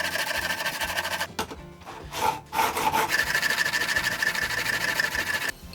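A plane blade clamped in a honing guide is pushed back and forth across 600 and then 1000 grit sharpening stones, a steady close rasping scrape that pauses briefly midway before resuming.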